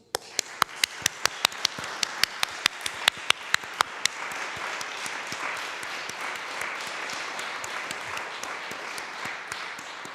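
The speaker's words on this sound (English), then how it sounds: "join me in thanking Susanna and the organizing committee by showing our appreciation with a round of applause" Conference audience applauding: a few sharp, separate claps ring out first, then swell into steady, dense applause that fills the room and holds to the end, with no talking.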